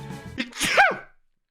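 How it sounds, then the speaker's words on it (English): A single loud, close sneeze: a quick intake of breath followed by a sharp explosive burst that fades out into silence. "I punished myself with sneezing."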